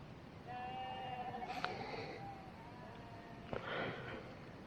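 Goats bleat intermittently near a campsite at night, several faint wavering calls drifting in from a short distance over light wind.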